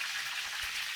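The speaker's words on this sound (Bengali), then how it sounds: "সবজি কষানো হচ্ছে" Vegetables sizzle and fry in a pan as hilsa fish is prepared, giving a steady, even hiss with no breaks, close and moderately loud, with no voices.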